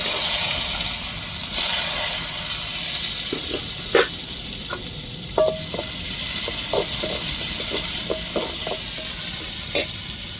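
Mustard seeds, onion and tomato frying in a pan give a steady sizzle with scattered small pops and crackles, and occasional stirring clicks are heard close by. Nobody speaks.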